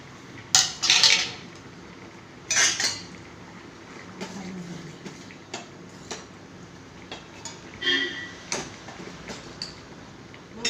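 Metal cookware clatters and clinks as a lid is set on a pot of curry and utensils knock against pans in scattered bursts, close by in a home kitchen with quiet pauses between.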